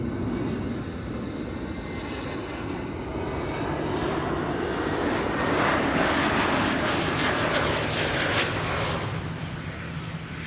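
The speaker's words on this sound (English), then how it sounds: "Here's our next arrival, Aegean, flight 3624, arrival from Athens, A321neo." Aegean Airbus A321neo arriving at Amsterdam Schiphol from Athens, a loud, steady engine roar that swells slightly in the middle of its approach and holds throughout.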